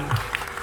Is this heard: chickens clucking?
no